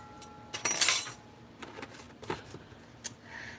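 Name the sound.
spoon adding onion powder to a bowl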